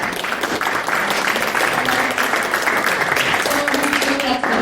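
Audience applause in a room after a panel discussion at a social media event, dense steady clapping throughout at full loudness, with a few voices mixed in.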